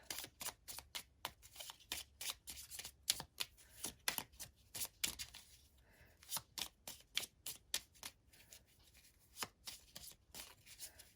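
Tarot spell cards shuffled by hand in a steady run of crisp riffling snaps and slaps, close and fairly quiet, with no talking over them.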